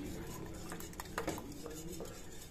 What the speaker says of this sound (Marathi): आता या गरम दुधामध्ये आपण हे केलेले पेस्ट टाकून घ्यायच्यात आणि हलवत राहायचंय